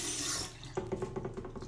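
Tap water runs into a sink for about half a second as a face is rinsed, then gives way to softer irregular splashes and drips, close and fairly quiet with no voices.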